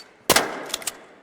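A Hairpin weapon in the game ARC Raiders fires in a few sharp, loud bursts: one strong shot, two quicker weaker pops, then another loud shot near the end.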